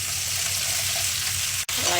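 Mustard, fennel and cumin seeds tempering in hot oil, a steady close sizzle and crackle with a brief sharp clack near the end before the frying continues.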